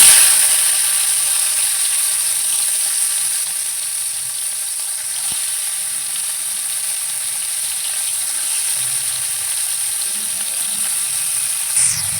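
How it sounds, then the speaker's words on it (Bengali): Shrimp pieces frying in hot oil for a shrimp and bitter gourd curry, a loud, steady, dense sizzle that holds evenly throughout, close up with no talk. "তো তেলটা গরম হয়ে গিয়েছে এবার চিংড়ি মাছগুলো আমি দিয়ে দিই"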